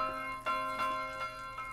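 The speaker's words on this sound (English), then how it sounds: "Why is the bell ringing?" A bell tolls in the medieval village game Medieval Dynasty, several evenly spaced strikes with a ringing, sustained tone, moderately faint and distant, with no voices over it.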